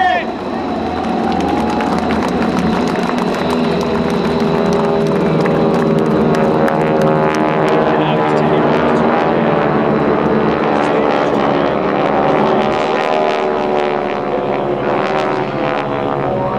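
World War II propeller aircraft of the GEICO Skytypers drone loudly overhead in a sustained, throaty roar at a military open house air show, with crowd noise and chatter mixed beneath.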